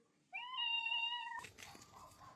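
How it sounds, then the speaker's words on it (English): A single drawn-out cat meow, clear and close, rising and then holding steady for about a second before it is cut off by rustling household noise. "If you're happy and you know it, say meow."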